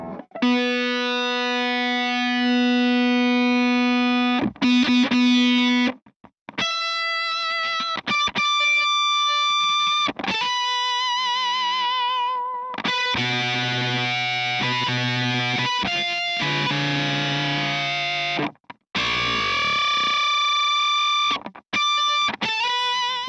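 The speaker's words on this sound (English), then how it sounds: "the octave that is built into the life pedal, it only works in association with the distortion" An electric guitar plays through an EarthQuaker Devices Sunn O))) Life Pedal V3 with its distortion and analog octave engaged, giving loud, thick, sustained fuzzy chords and notes with abrupt stops and restarts, played alone.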